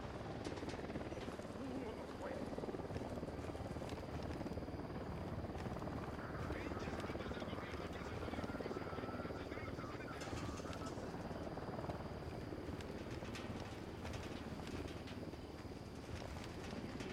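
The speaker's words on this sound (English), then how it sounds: "Helicopter inbound." A helicopter's steady rotor roar drones throughout in the video game Ghost Recon Wildlands, loud and close, with voices talking over it.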